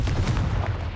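Confringo fire spell cast in Hogwarts Legacy, a dense burst of crackling blasts filling the whole second, loud and close.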